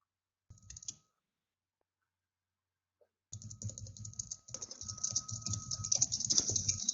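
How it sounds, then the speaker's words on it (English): Two bursts of quick keyboard typing: a short flurry, a pause of silence, then steady rapid clicking on a computer keyboard that grows busier toward the end. "I hear typing."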